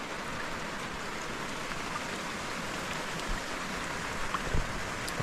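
Steady rain falls over a misty hillside village in the rainy season, a constant soft hiss of drops on surfaces that stays even throughout, with a few louder nearby splashes.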